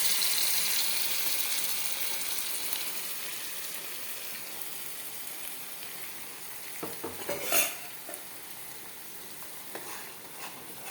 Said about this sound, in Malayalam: ഒന്ന് ഇളക്കി നെയ്യും ആ പരിപ്പും കൂടെ ചേർന്ന് വരുന്നവരെ ചെറുതായിട്ടൊന്ന് യോജിപ്പിച്ച് കൊടുക്കുക